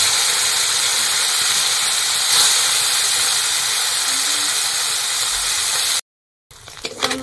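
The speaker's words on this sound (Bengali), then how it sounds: "তেলটা গরম হয়ে গেছে, আমি চুনা মাছগুলো ভেজে নেব।" Small chuna (kachki) fish fry in hot oil in a kadai, giving a strong, even sizzle that holds for several seconds, then breaks off briefly before some soft clattering.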